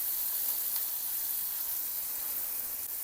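Maggi noodles being sautéed in a pan with chopped coriander and Maggi masala, a dense, even hiss of sizzling with no pauses or voices.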